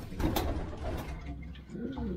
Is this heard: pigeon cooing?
yes